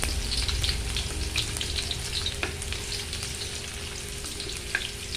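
Ginger sautéing in hot oil in a pan, a steady dense sizzle with light crackles and an occasional utensil tap, close and continuous with no voices.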